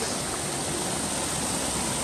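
Water pouring from the 108 spouts at Muktinath Temple, a dense, steady rushing roar close by that continues without a break.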